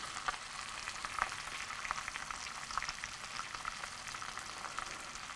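Steak end searing upright in hot butter and oil in a tilted pan, a steady close crackling sizzle with small spits and pops throughout, no voices.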